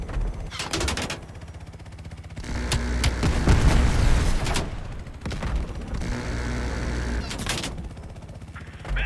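Heavy gunfire fills a Black Ops Cold War campaign battle: sustained automatic bursts and booming impacts roll almost continuously, loud and close, with brief lulls between volleys.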